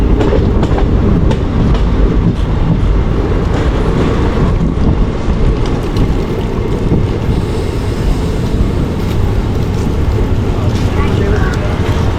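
An electric train on the Nilambur route near Vaniyambalam station rolls along with a loud, steady rumble and a clickety-clack of wheels, heard from on board with wind buffeting the microphone throughout.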